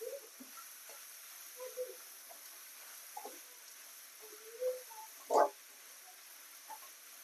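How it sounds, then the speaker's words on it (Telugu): Grated carrots, four large ones, fry in a pan for carrot rice, giving a faint, even sizzle broken by a few soft stirring knocks and one louder scrape near the end. "కొంచెం మంచిగా ఫ్రై కావాలి క్యారెట్ మంచిగా ఫ్రై చేసుకున్న తర్వాత"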